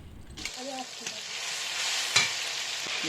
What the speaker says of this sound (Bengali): উত্তপ্ত তেলের মধ্যে দিয়ে দিলাম কিছু টমেটো কিছু এবং লঙ্কা বাটা একসঙ্গে গরম তেলে দিয়ে দিলাম